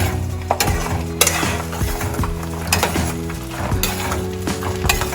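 Garlic cloves fry in oil in a pan for a tomato and green chilli chutney, giving a soft continuous sizzle with sharp spoon scrapes and clinks against the pan, set under steady background music.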